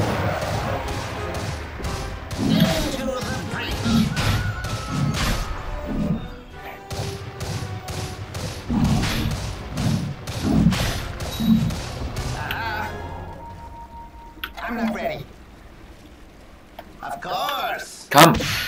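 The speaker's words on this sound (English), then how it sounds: "Explosion." Explosions and crashing impacts from the video game Dota 2, a busy run of loud thuds and smashes with game effects, ending in a sharp final blast.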